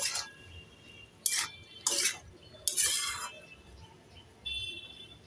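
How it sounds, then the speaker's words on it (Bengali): Taro stolons being stirred in a pan for a spicy vegetarian mustard-poppy dish, with a few short clinks and scrapes of a utensil against the pan over a quiet background. "একটু নেড়ে চেড়ে দিয়ে দেব আবারও নেড়ে চেড়ে দু মিনিট ভালোভাবে কচুলতিগুলোকে"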